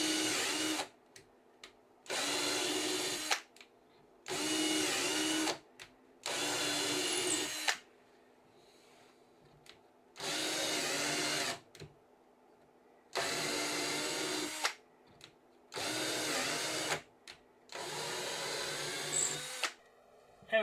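A power drill bores a series of small holes into a loading ramp for a TT120 model, firing in about eight short, even bursts with quiet pauses between them, close and fairly loud with no talking.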